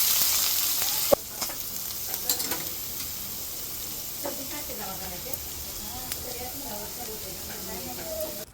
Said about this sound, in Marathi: जिरी मोहरी कढीपत्ता आणि कांद्याची फोडणी परतून